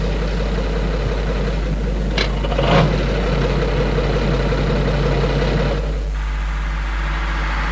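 Unimog truck engine idling with a steady low rumble and hum, close and loud, a brief knock or clunk partway through and a slight shift in tone near the end, no voices.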